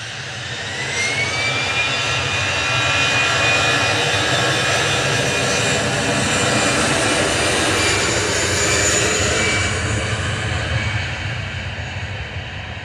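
An EasyJet Airbus A319 airliner's jet engines roar at Manchester Airport, a loud, sustained rumble with a rising whine that swells and holds throughout, heard from nearby outdoors without talk.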